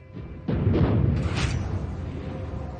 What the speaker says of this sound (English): The Germans are being torn up by artillery shells.